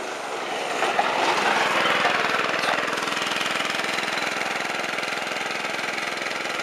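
A go-kart with a 5.5 HP engine runs steadily, a loud continuous buzzing drone that swells briefly near the start and then holds an even, throbbing pitch.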